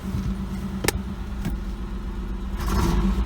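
An Oldsmobile Ciera engine idles roughly and is revved in short bursts, with a misfire and clattering, close and moderately quiet, picking up louder near the end.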